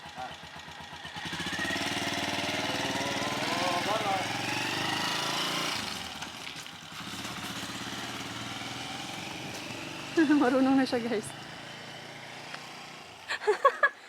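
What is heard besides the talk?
motor scooter engine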